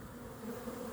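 Young honeybees fly around a small nucleus hive, giving a faint, continuous buzzing drone for a brief moment with no voices.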